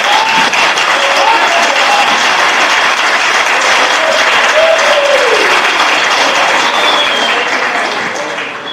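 A church congregation applauds at a conference service, a dense, loud wash of clapping that holds steady for several seconds before tapering slightly at the end, with faint voices mixed in.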